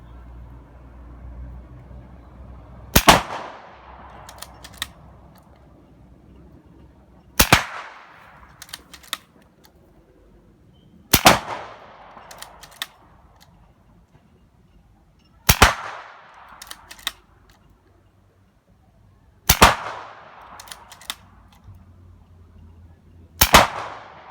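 Gunshots striking an exploding steel target outdoors, six sharp loud cracks spaced a few seconds apart, each trailing off in a brief echo, with no talk in between.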